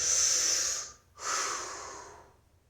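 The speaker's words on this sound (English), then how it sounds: "breathing the whole time" Two loud, close breaths, a long airy exhale and then an inhale after a brief pause, taken while holding a foot-strengthening exercise.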